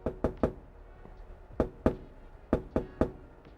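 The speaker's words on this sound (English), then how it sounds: "I want you to tap the bird's feet" A toy bird's feet are tapped on a table in quick bursts of two or three sharp knocks, close and dry, with short pauses between groups and no talk.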